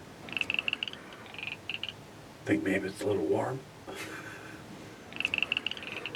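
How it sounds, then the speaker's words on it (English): Frogs trill and croak in bursts during a warm, wet Illinois whitetail deer hunt, a repeated high chirring chorus that fades in and out, while a person speaks briefly in the middle. "When was the last time you heard frogs on a deer hunt?"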